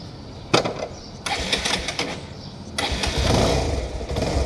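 A four-year-old Bajaj Pulsar 220F motorcycle cranks with sharp starter bursts, catches, then settles into a close, loud, rising idle rumble.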